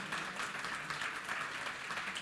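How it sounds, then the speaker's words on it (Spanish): Audience applauding panelists at a business conference panel in Santiago, a steady wash of clapping from a crowd filling the whole stretch at an even level, with no voices on top. "quiero pedir un fuerte aplauso a Eliana, Carlos, Débora, Jorge"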